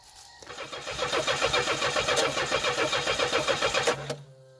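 Starter cranking a gasifier-fueled engine, a rapid rhythmic chugging that begins abruptly, holds a steady pulsing beat for several seconds close by, then cuts off with a brief clunk.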